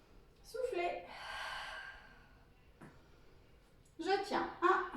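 Breathing during a lower-body strengthening exercise: a long exhale near the start, a short sniff, then several quick breaths at the end, with faint speech mixed in.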